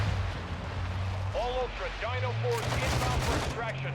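Heavy gunfire and explosions boom in Call of Duty Modern Warfare II DMZ, a dense low rumble of shots under someone talking in Thai, with brief chirping tones in the middle.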